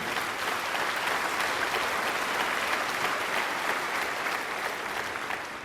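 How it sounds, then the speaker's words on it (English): Steady, dense audience applause rolls on continuously at an even loudness, a broad wash of many hands clapping that eases slightly at the very end. "You can give them an applause, certainly."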